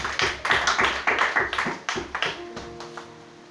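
A church congregation claps in a steady rhythmic beat, the claps bright and close at first and then gradually fading, as sustained keyboard tones come in toward the end.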